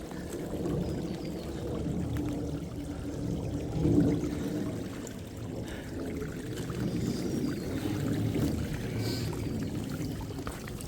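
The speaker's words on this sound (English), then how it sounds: "This is at the top of that cascade." Water rushes steadily over a creek cascade, a continuous low, churning flow heard from nearby at the top of the falls, with no talk over it.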